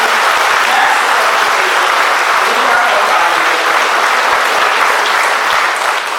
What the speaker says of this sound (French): Je voudrais demander à l'Assemblée d'applaudir pour chacun de vous ici présent.